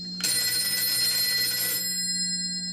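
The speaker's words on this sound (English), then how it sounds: "The operator can now ring station number 3 by pulling forward" A telephone bell on a 551A PBX switchboard station rings continuously for about a second and a half, triggered by an operator's ringing key, loud and alone, then cuts off leaving a faint hum.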